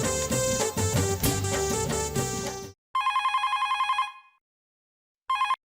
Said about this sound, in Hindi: जेठिया को फोन लगा।